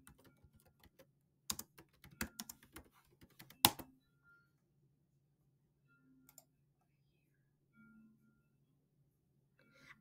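Computer keyboard typing in a quiet room, a burst of irregular, close key clicks lasting a few seconds, then mostly quiet with a faint steady hum and a couple of soft isolated clicks.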